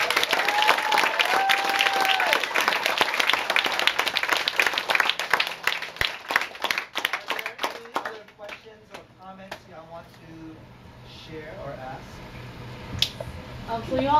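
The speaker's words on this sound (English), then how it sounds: "Let's give them a round of applause" At a film premiere Q&A, an audience gives a round of applause: dense, loud clapping for about eight seconds, then it thins into scattered claps and fades, leaving a quiet room with faint voices.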